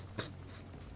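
A dog character in the stealth game Metal Gear Solid V: The Phantom Pain gives one short, sharp bark-like sound early on, over a low steady game hum.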